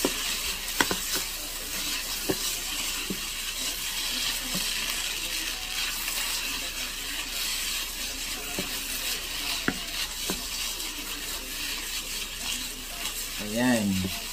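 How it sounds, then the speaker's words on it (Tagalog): Pasta sizzles steadily in a frying pan while a utensil stirs and scrapes through it, with occasional sharp metallic taps against the pan under the constant frying hiss. "Yan, then hulog na natin ang ating pasta."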